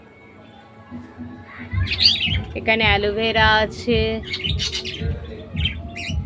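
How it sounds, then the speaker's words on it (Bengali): Birds call and chirp in an open field beside a house on a sunny day, with short bright squawks and tweets scattered across the clip, partly under nearby talk. "পাখিগুলো আবার কি সুন্দর ডাকছে"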